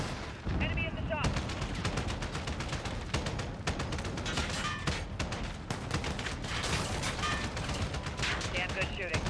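Gunfire in Call of Duty Modern Warfare 2019 Domination mode, rapid automatic bursts and single shots crackling loudly and almost without pause, with radio-style voices calling out now and then.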